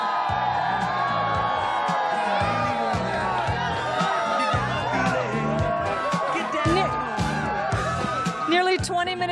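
A large New Year's Eve crowd at the 1999–2000 Y2K celebration in San Diego cheers and chatters loudly and continuously, with whoops rising over dense babble and talk throughout.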